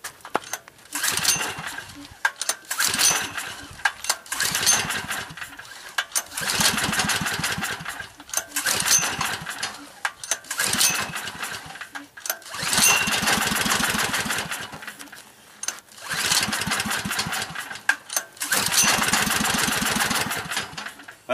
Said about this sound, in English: Well, you can hear it firing up a little bit.